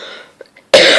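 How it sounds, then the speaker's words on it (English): A sick person coughs once, a loud, harsh, close burst that follows a few faint throat sounds. "I'm still coughing a lot because I'm still sick"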